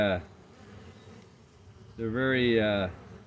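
Bees buzzing at a beehive in February, a brief buzz at the start and then a louder, rising and falling close pass about a second long, with quiet gaps between.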